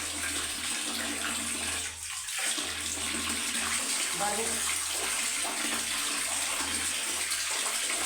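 Strong, steady rush of water pouring from a tap, with a voice speaking briefly over it.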